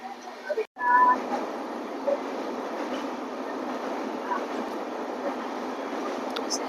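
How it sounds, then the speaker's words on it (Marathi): The Golden Temple Express, heard from on board between Pune and Mumbai, gathers speed with a steady, close rumble of wheels and carriage noise after a brief knock, with a faint squeal and someone speaking over it. "ट्रेनने स्पीड पकडलेला आहे"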